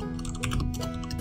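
Fingers tap quickly on a computer keyboard, a close, soft run of irregular clicks heard alone without speech.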